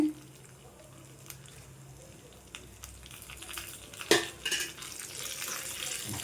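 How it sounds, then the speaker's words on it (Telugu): Garlic and curry leaves frying in oil as a tempering for cucumber chutney give a low, steady crackle, broken by a sudden utensil clank near the middle and light stirring afterward. "పోపు అనేది చిటపట్లు ఆడేంత వరకు వేయించుకోవాలండి"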